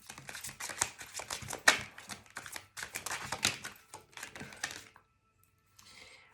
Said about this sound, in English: me trying to shuffle this deck, which is 3 decks, is comical